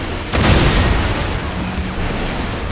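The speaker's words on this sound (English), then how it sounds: "Taking heavy fire." Heavy fire explodes in a Warhammer war game: a sudden loud boom bursts in after a brief pause and rolls on as a dense, rumbling barrage of blasts for a couple of seconds.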